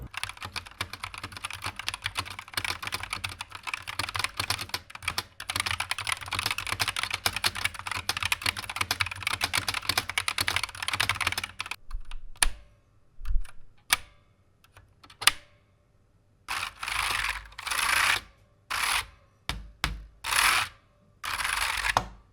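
Steady, fast typing on a Blitzwolf BW KB2 optical mechanical keyboard with a clacky, hollow ring from its chassis on each keystroke, then a stretch of separate key presses and short bursts with gaps between.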